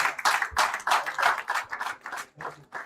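An audience at a student gathering with President Barrow claps to honor a school group, a steady run of dense, overlapping hand claps that rise and fall in loudness, fairly close, with no talking over it.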